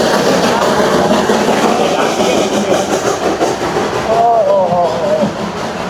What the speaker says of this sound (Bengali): আর সামনে মনে হয় হচ্ছে টয় ট্রেন আসছে।